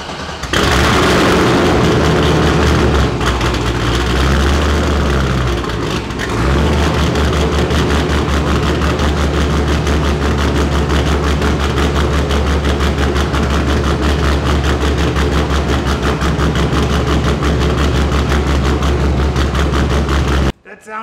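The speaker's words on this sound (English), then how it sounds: "we are about to hear what the Miata sounds like, not open header, with a real exhaust for the first time ever" An LS V8-swapped Mazda Miata with a real exhaust, no open header, runs loud and close for about twenty seconds. It gives a steady deep rumble with throttle changes early on, then cuts off at the end.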